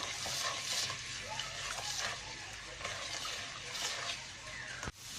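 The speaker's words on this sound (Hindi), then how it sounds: "मसाला डालने के बाद हम 2 चमचों के बराबर इसमें पानी ऐड कर रहे हैं, ताकि हम मसाले को बहुत अच्छे से भून सकें।" Masala spices fry and sizzle in a pan with a little added water for pickle making, with a spoon stirring and scraping steadily, close up, and a sharp clink near the end.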